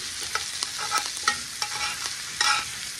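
Steak sizzles in a hot cast iron pan with butter and thyme, a loud continuous crackle with sharp spattering bursts as it is basted, no voices.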